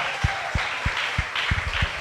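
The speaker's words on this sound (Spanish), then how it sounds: "Vamos a darle un fuerte aplauso a Jesucristo el Señor por su palabra." A church congregation breaks into applause, a soft bed of clapping under a few sharp low thumps spaced across the moment.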